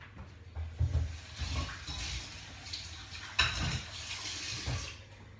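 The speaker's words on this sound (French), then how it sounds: "je vais juste me laver les mains." Tap water runs over hands in a home kitchen sink during cooking prep, a steady broadband splash with a few louder bursts of movement, no voices.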